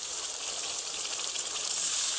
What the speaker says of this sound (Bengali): পেঁয়াজটা কিছু সময় একটু ভেজে নেব, খুব বেশি সময় নয়